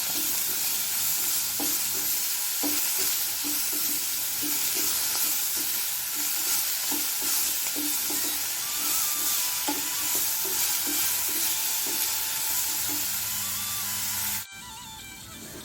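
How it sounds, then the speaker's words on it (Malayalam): Onion and garlic fry in a pan with steady broadband sizzle while a utensil stirs them in regular scraping strokes. The sizzle stays close and loud for about fourteen seconds before dropping sharply at the end, and no one speaks. "നമ്മുടെ ഉള്ളി വെള്ളുള്ളി ചെറുതായിട്ടൊന്ന് മൂത്ത് വന്നിട്ടുണ്ട്"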